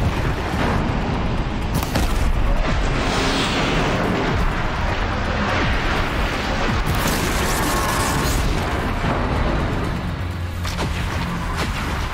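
Explosions in Horizon Zero Dawn roar in a dense, continuous barrage, loud and close, with heavy booming rumble and crackling bursts layered over one another throughout.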